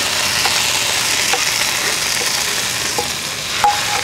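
Masala paste being stirred into mackerel frying in hot oil, a steady loud sizzle throughout with occasional scraping clicks of the spoon against the pan.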